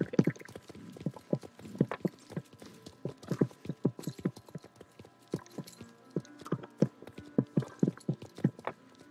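Steady clip-clop of horse hooves walking at an even pace in a video game, close and clear, with no talking.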